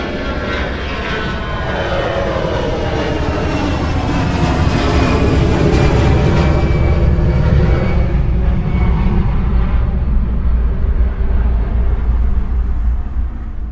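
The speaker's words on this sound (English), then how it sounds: "reproducing the exact position of an airplane as it passes by, from taking off to flying directly overhead" An airplane taking off at an airport and passing directly overhead: a loud, broad engine roar that swells and holds, then slowly thins as it moves away.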